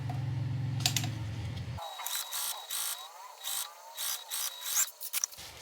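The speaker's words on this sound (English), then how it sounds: "now I'm just going to sew it and attach it to this zipper" A sewing machine stitches fabric to a zipper and lining piece for a wristlet, giving bursts of quick rattling clatter with short pauses in between, after a low steady hum at the start.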